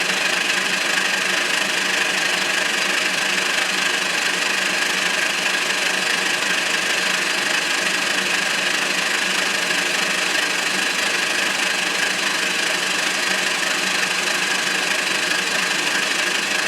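A lathe spinning at about 1600 RPM gives a steady, dense whirring hum with constant mechanical noise, close and unbroken throughout, with no speech.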